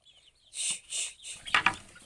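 A few bright, rising chicken squawks and clucks close by, with a short rapid burst near the end, no talking.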